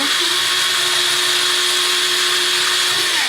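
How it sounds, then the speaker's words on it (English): A power drill bores holes through a small painted Dollar Tree farmhouse sign, its steady high motor whine running loud and unbroken for a few seconds with no talking. "So I have my drill out here and I am going to drill some holes in here"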